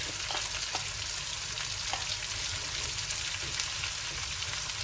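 Beetroot stir-frying in hot coconut oil in a pan for Indian stir-fried beetroot, giving a steady close sizzle and crackle that runs without a break, with a few soft stirring clicks and no talking.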